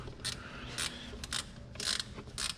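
Screws being tightened into plastic inserts on the air filter housing of a 2012 Audi R8 V10, repeated ratchet clicking in short bursts over a steady low background hum, close up and moderately loud.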